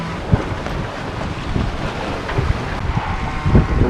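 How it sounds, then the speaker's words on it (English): Gusty wind buffets an anchored sailboat in the Bahamas, a steady roaring rumble with louder bursts of wind noise on the microphone and splashes of water against the hull. "Got windy quick."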